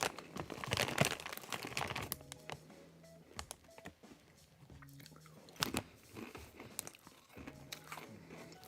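Crunchy cheddar cheese flavoured snack with a strong, mature cheddar taste being bitten and chewed up close, giving a run of loud, sharp crunches and crackles with some packet crinkling in between.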